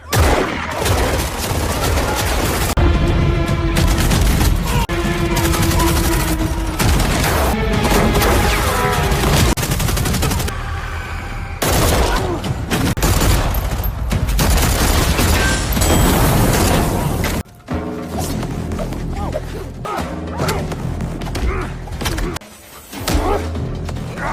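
Rapid bursts of heavy gunfire and crashing impacts, loud and sustained, with brief pauses between volleys.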